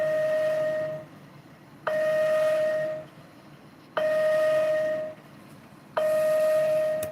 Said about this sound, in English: So it's like a sort of continuous chime.